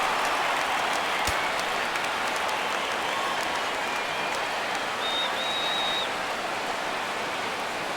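A stadium crowd in MLB The Show 17, Cubs vs White Sox, roars steadily as fans rise for a full count. The broad, unbroken cheer holds at an even level throughout with no clear talk above it.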